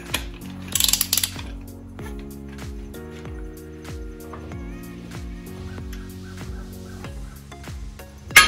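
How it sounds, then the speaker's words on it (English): A torque wrench ratchets on Fox Body Mustang suspension during a Koni Orange strut install, giving a steady series of close, rhythmic mechanical clicks roughly once per second, alone with no talking. "Maybe we will try the torque wrench."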